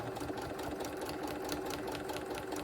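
A sewing machine stitches a quilt block for an Advent wreath quilt, running steadily and close by with a continuous whirring hum and a rapid needle rhythm, alone without talk.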